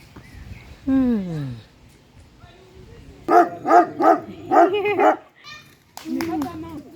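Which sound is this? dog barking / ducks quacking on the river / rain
dog barking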